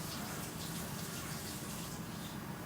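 Tap water runs steadily for cleaning a cast iron pan, a constant close hiss of flowing water with no breaks and no talking.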